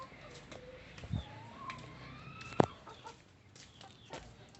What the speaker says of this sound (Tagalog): Ito mga Rhode Island Red. Ayan yung rooster.